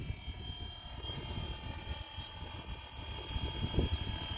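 A Flywing UH1 RC helicopter flies with a steady, droning rotor and motor whine that holds at an even, fairly loud level throughout, with no voices.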